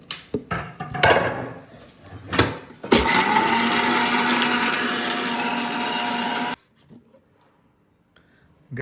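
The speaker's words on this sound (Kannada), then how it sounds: "ಬಟಾಣಿ ನಾನು ಫಸ್ಟ್ ಗ್ರೈಂಡ್ ಮಾಡ್ಕೊಂಡ್ಬಿಡ್ತೀನಿ." Mixer grinder blending peas, onion, cashews and green chilies for a paste, a loud steady whirring burst of a few seconds after some clattering handling, then stopping abruptly into near silence.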